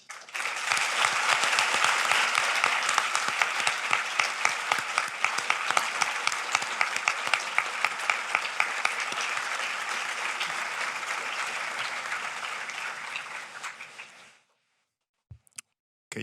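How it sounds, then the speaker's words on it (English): Sustained audience applause at a March 2020 U.S. Naval War College graduation ceremony, a dense steady clapping from a large crowd lasting about fourteen seconds before stopping abruptly into near silence. "please join me in saluting with our applause the March 2020 graduates"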